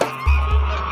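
A goose on a farm in Taiwan gives a couple of loud, close nasal honks, with a low steady hum of background noise beneath the calls.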